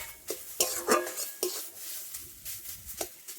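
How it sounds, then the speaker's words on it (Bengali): A spoon scrapes and clinks against a pan while stirring ground lentil paste with black cumin in oil, a handful of sharp taps and scrapes spaced irregularly, close and fairly quiet. "তো তেলের সাথে একটু এইভাবে নাড়াচাড়া করে নেব।"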